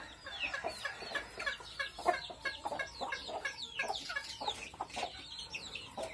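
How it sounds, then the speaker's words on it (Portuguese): Naked neck hens clucking in a backyard pen, a steady run of short, repeated clucks and calls from several birds close by, with no talking. "tem duas galinhas de pescoço pelado aqui que eu tenho em mente"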